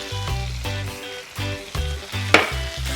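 Sausage simmers and sizzles in a pan for dirty rice, a loud, steady frying crackle with rhythmic stirring scrapes and one sharp clink near the end.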